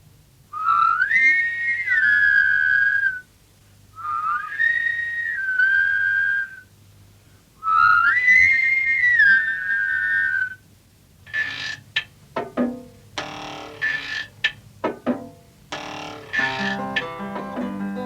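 Several people in a children's stop-motion show whistle in unison, three long rising and falling phrases, followed by a burst of scattered clattering and musical tones.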